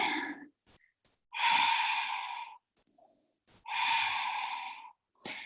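Slow, deep breaths during a yoga hip-opening pose, long audible inhales and exhales with short pauses between, close and fairly quiet, no talking.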